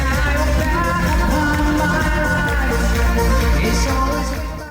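Dense live band music from a concert in Japan plays continuously at steady loudness, full and slightly muffled through a phone speaker, fading a little at the end.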